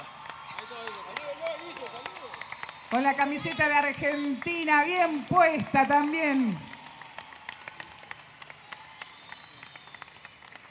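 A festival crowd at Río Gallegos applauds a band after their set, a swell of clapping and cheering that fades out as an announcer talks over it.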